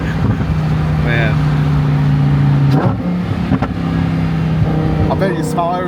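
A Lamborghini Huracan Evo with a titanium exhaust accelerating, engine droning loud from inside the cabin, pitch rising and dropping through quick shifts while people talk over it.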